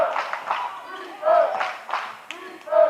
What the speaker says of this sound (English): Toccoa fans standing up in the stands, cheering on their friends on the court.